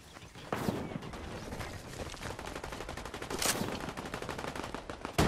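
Rapid Fortnite gunfire crackles through a battle, bursts of automatic shots running almost continuously with a few sharper, louder cracks standing out, all at moderate distance.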